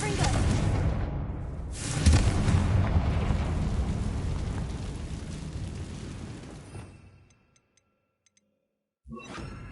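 A Confringo blast spell explodes in Hogwarts Legacy, a heavy rumbling boom around two seconds that rolls out over several seconds before dropping to near silence.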